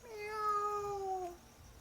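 A domestic cat gives a single drawn-out meow lasting over a second, clear and fairly close, with no talking around it.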